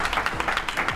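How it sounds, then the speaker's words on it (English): Applause from the audience at a TED-style talk, a steady patter of many hands clapping that fills the space evenly for a moment. "Let's have another little round of applause."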